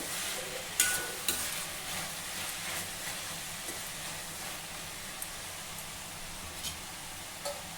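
Onions cooking with salt in a pan on a low flame, a steady faint hiss of gentle frying with occasional soft clicks and light utensil taps, no one talking.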